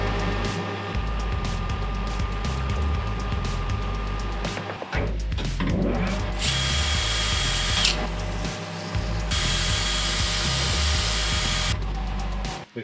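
Power tools machine a metal barbell part down to size, a sustained whirring drone with a strong low hum and bursts of bright high-pitched cutting noise midway, close and steady throughout with no speech.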